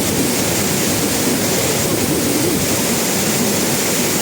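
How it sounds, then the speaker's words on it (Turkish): Cehennem waterfall rushing with a loud, steady roar of falling water, broadband and continuous throughout with no pauses or voices. "Biz şelalenin tadını çıkarıyoruz."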